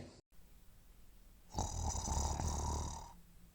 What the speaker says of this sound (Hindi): पता नहीं कौन इतनी तेज खर्राटे मार कर सो रहा है